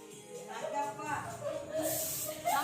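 A hissing party spray can bursts out near the end, over busy chatter from several people close by at a birthday party.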